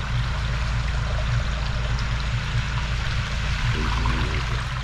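A newly built pondless waterfall, converted from a pond, sends water in a steady, close rushing flow with a constant splashing stream and no pauses.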